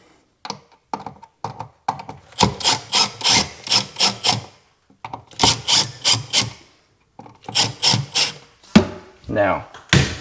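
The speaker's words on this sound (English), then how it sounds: "So just screw those in." Screws are driven into an electrical wall outlet by hand with a screwdriver, giving close, rhythmic bursts of scraping and squeaking turns separated by short pauses.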